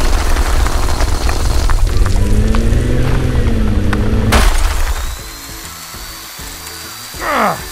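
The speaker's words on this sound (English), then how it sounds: "With this drill bit, no rock or dirt can stand in our way." A drill bit on a LEGO truck runs with a loud, close, continuous grinding whir for about four seconds, breaking off abruptly into quieter background sounds with a short whoosh near the end.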